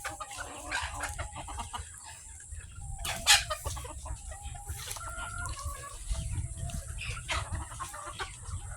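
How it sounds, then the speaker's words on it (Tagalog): Chickens cluck and squawk nearby at feeding time outdoors just after rain, with a rooster's call and scattered bird chatter over low background noise. "Papakain si William ng manok, guys."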